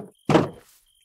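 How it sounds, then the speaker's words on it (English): A door opens in the video game Minecraft, a single short thunking burst with a brief scrape, fairly close and alone apart from a faint tone. "But let's open the door for him."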